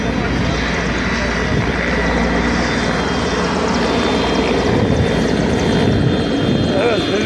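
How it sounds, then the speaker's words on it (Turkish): A firefighting helicopter cooling and extinguishing a large fire in which many vehicles burned: a loud, steady rotor and engine roar fills the whole clip without a break, with voices faintly underneath. "Helikopter soğutma ve yangın söndürme."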